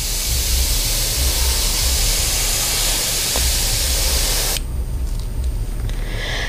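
Light, low-pressure paint spray for stenciling hisses steadily and close, broad and even, then drops off sharply near the end into a quieter airy tail.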